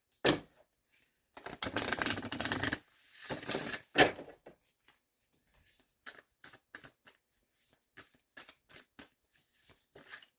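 Tarot cards being pulled and shuffled by hand, a couple of dense riffling bursts early on, then a run of light, scattered card flicks and taps, close and fairly quiet with no talking.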